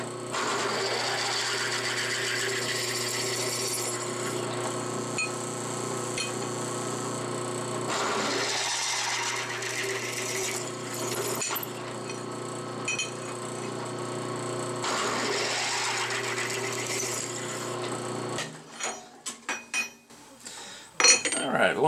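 A drill bit bores through a laser-cut steel brake bracket, a steady grinding whine in long passes that rise and fall, ending in a few sharp clattering knocks.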